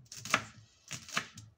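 A knife chops garlic on a board in a few sharp, quick strokes, close and fairly crisp, with brief pauses between cuts.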